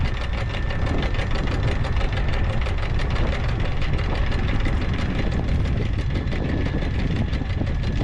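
A boat engine runs in reverse while anchoring, giving a loud, constant, rumbling drone with a rapid chugging pulse throughout.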